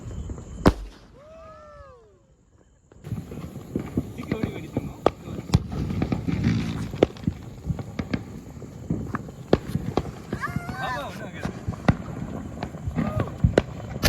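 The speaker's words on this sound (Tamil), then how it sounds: "எப்படி வெடிக்கிறதுன்னு தெரியல, ஆனா மேல போய் வெடிக்கும்னு போட்டிருக்கு" Diwali firecrackers launch upward and burst outdoors, with a whistling rise early on and then a sustained barrage of sharp pops and crackles at mid distance, alongside scattered, fainter bangs over several seconds.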